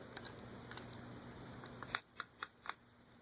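Four crisp ratchet clicks from the knee joints of a chrome Bandai Chogokin Mechagodzilla die-cast toy, close and evenly spaced, following a few fainter clicks over a quiet background hum.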